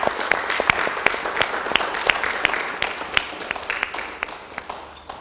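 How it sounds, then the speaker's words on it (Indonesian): An audience applauds after a talk at a televised discussion event, a dense steady patter of many hands clapping that holds evenly for several seconds, then tapers slightly at the end. "Kita berikan tepuk tangan."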